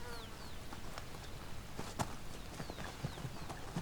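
Konik ponies walking, their hooves clip-clopping in an uneven, unhurried rhythm at moderate distance, faint against an outdoor background with occasional bird calls.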